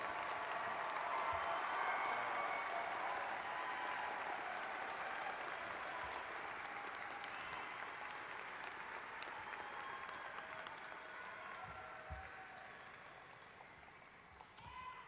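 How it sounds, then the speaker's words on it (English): Sustained applause from a large crowd at a university commencement fills the space, steady clapping for graduates that slowly tapers off toward the end. "Let's give all of our graduates another round of applause."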